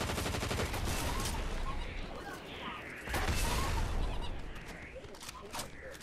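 Gunfire from a gun in Fortnite, bursts of rapid shots crackling loud and close over a busy game mix, with a dense volley in the middle and a player's voice talking over it.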